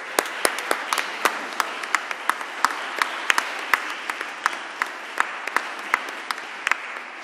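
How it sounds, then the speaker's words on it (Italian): A church congregation applauds children at their confirmation, a moderate spread of individual claps with sharp, distinct hand strikes echoing in a quiet hall. "Facciamo un applauso per questi ragazzi"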